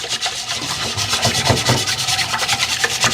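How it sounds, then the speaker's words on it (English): A cast iron pan being scrubbed by hand, close-up rhythmic rasping strokes, loud and continuous with rapid back-and-forth repetition, and no talk. "I just scrub a little bit harder to get that off"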